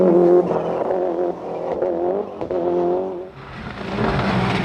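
A Toyota rally car on a stage of the 1998 Sligo Stages Rally, its engine droning and revving in uneven surges, loud and close, the tone rising and dipping as it pulls out of a slow junction.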